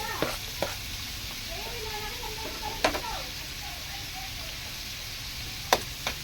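Garlic, onion and tomato sautéing in a pan for ginisang ampalaya, a soft continuous sizzle broken by a few sharp spatula clicks against the pan, with faint indistinct talk in the background.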